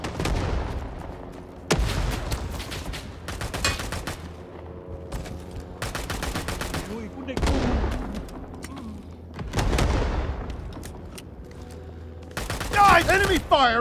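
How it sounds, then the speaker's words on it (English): Gunfire in the video game Rising Storm 2, bursts of rifle and machine-gun fire with booming blasts in repeated volleys, near and loud, with shouted voices mixed in among the shots. "Enemy fire incoming!"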